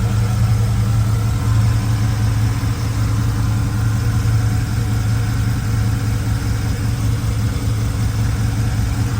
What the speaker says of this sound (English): Here's the LS1.